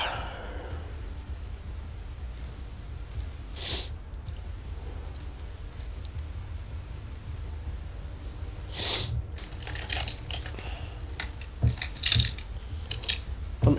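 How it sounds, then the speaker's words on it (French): Computer keyboard typing during a game, faint scattered clicks and short bursts of keystrokes over a quiet background hum, with no speech. "Laura, Laura, Laura, tu fais quoi avec ton clavier là?"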